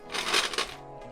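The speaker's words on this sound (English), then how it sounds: "We forgot to add the ice, so we're gonna go ahead and drop some ice in there as well" Ice cubes drop into a glass of a mixed drink such as a Manhattan or martini, a brief bright clatter and crack of a few cubes settling, fairly close, then quiet.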